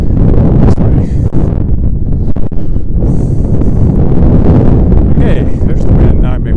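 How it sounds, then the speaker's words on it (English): Heavy wind buffets the microphone in a continuous roar while someone walks outdoors along a pathway on a December day in Regina, with faint rustling and movement sounds beneath. "Okay, there's the wind."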